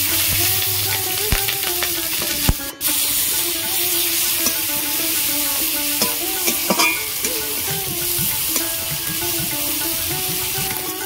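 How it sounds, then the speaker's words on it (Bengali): Chopped onion, green chilli and Bengali five-spice sizzling in leftover prawn-frying oil, a continuous hiss of frying with scraping stirs and occasional utensil knocks close by. "চিংড়ি ভাজার ওই তেলের মধ্যে আমি 5 ফোড়ন দেব, লঙ্কা কুচি, পেঁয়াজ কুচি দিয়ে দেব।"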